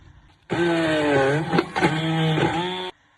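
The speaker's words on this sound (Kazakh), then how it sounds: "Енді блендермен жақсылап езіп шығасыздар." Blender crushing lemon and orange for homemade lemonade: a loud motor whine starts abruptly, runs about two and a half seconds with pitch dips as the blades bite into fruit, then cuts off.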